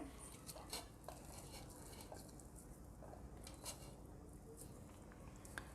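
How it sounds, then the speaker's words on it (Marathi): Boiled potatoes mashed by hand in a bowl for a spiced potato dish, giving a steady, soft squishing and patting texture with faint scrapes, low and close throughout. "बटाटा आपल्याला हाताने स्मॅश करायचा आहे"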